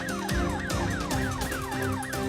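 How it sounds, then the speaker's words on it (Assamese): Ambulance siren wailing in a rapid repeating rise-and-fall pattern, loud and close with no voices over it. "অঁ, এম্বুলেঞ্চ আহি পালেহি।"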